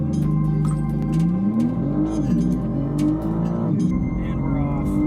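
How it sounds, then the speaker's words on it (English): BMW M4 Competition xDrive Convertible engine held on launch control, building boost in a loud, close, rising rev with a steady low rumble underneath. "we've got to do a quick launch control here. Test out the brakes, build boost."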